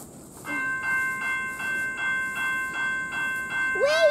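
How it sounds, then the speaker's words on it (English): A train approaches, its horn sounding in a steady series of about eight evenly spaced blasts over rumbling background noise, ending with a rising squeal. "We hear a train coming, so Mary and Peter wanted to come and see it"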